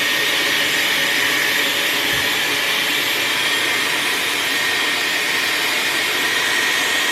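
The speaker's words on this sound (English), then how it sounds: "So this is the air wrap. I use the large barrel." A Dyson Airwrap hair styler with the large barrel attachment blows air in a loud, steady, broadband whoosh that holds constant throughout, close up with no talking.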